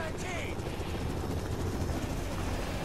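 Steady broadband roar of an aircraft engine in the video game Modern Warfare Remastered, continuous and loud throughout under a dense bed of game noise, with faint voices and possible distant gunfire mixed in.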